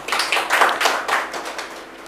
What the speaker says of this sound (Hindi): ताली बजाएं तो मन से और दिल से बजाइएगा